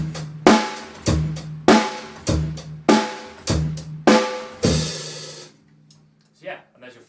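A simple beginner drum groove on a drum kit: six steady, evenly spaced hits with kick and crashing cymbal wash, played alone at moderate tempo, ending in a ringing decay and near silence.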